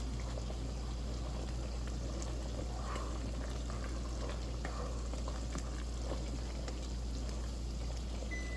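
Wineberry jelly boiling in a pot on the stove, a steady dense bubbling roar with scattered pops, continuous and close, over a low hum with no voices.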